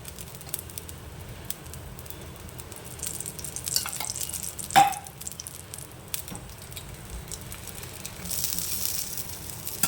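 Oil is drizzled around sprouted green gram batter frying in a pan, giving a steady, close sizzle with soft stirring scrapes and one brief metallic clink midway.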